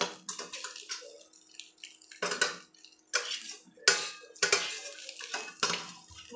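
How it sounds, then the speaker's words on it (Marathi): Egg rice with biryani masala being stirred in a pan, a spoon scraping and clinking against the metal in repeated bursts, close and fairly quiet, with no talking. "बिर्याणी मसाला टाकून चांगला हलवून घ्यायचा आहे।"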